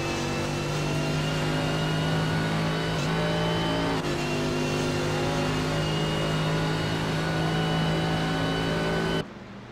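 A race car engine held at full throttle on the Monza circuit during a sprint championship race, a loud, steady high-pitched drone that runs nearly unbroken before dropping off abruptly at the end.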